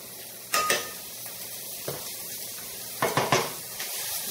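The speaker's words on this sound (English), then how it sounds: "Just put like a tablespoon of butter on the bottom." A tablespoon of butter sizzles in the bottom of a pan, with a faint steady crackle. Sharp clatters of a pan or utensil break in near the start and again toward the end.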